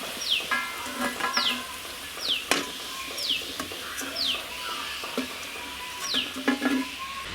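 Vada deep-frying in hot oil in a village-style outdoor kitchen, a steady sizzle with stirring scrapes and occasional clinks, while birds chirp repeatedly in the background.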